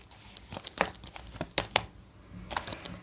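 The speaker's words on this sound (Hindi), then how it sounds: "अब कुछ कार्ड्स लेने पड़ेंगे।" Tarot cards being handled and drawn from a deck, giving a series of crisp papery snaps, shuffles and rustles, close and quiet, with irregular bursts of crinkling.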